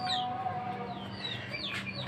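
A white hen at a poultry setting where eggs are being hatched clucks in soft, repeated bursts over a steady low background hum, fairly faint and unaccompanied by speech.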